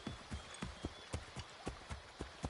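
Horse hooves clop in a steady galloping rhythm in Assassin's Creed III, the regular beats fairly quiet against a faint hiss, with no voices.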